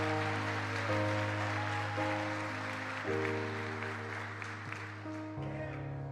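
A church congregation applauds during an anniversary service, a dense wash of clapping blended with sustained organ or keyboard chords that shift a few times, moderately loud throughout.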